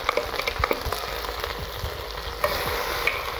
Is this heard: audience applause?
no